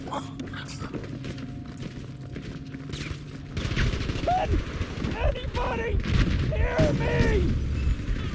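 An MG42 machine gun firing in the video game Battlefield 5, sustained rapid bursts growing louder in the second half, mixed with game effects and voices talking over it.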